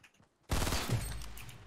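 Shotgun blast in Fortnite during a squad match: quiet lead-in, then one sudden loud shot with a booming tail that rings out for over a second, no talk over it.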